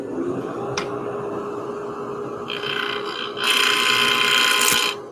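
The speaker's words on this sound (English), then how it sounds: "Blower on." An air blower switches on during a coating-removal job, its broad rushing hiss stepping up in two stages to a loud, steady roar near the end, with small mechanical clicks and rattles along the way.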